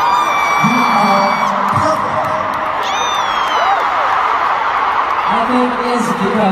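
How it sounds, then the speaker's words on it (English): Concert crowd of fans (ARMY) cheering and whooping steadily at close range, dense and continuous throughout, with sustained shouts and a rising yell partway through. "we can naturally hear Ami cheering"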